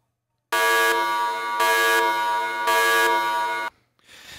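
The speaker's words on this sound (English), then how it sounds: "Got an alarm." An electronic alarm sound effect blares in three loud, pulsing buzzer tones with brief dips between them, then cuts off abruptly into quiet.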